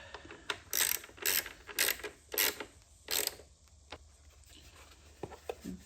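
A ratchet clicks in several quick bursts while snugging a battery terminal bolt on a Harley-Davidson Street 500/750 motorcycle, close and crisp with pauses between strokes, followed by a few faint metallic taps.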